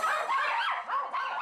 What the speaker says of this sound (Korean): 누군가 움직임만 보이면 공격적으로 짖는